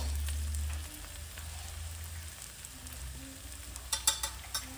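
Turmeric and coriander powder frying in a pan while cooking brinjal bharta, a steady soft sizzle with a low hum beneath and a few brighter crackles near the end, no talk.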